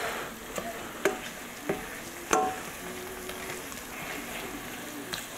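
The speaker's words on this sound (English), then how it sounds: "As this is all frying up." Steak with chocolate frying in a pan gives a steady, soft sizzle throughout, broken by a few sharp pops and crackles, with no talking over it.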